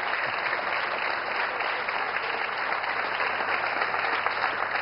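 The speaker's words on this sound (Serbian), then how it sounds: "Publika, dajte. Dajte aplauz. Obodrimo malo naše takmičare." A studio audience claps on a Serbian quiz show (Multimilioner), cheering the contestants with steady, dense applause that holds at an even level throughout.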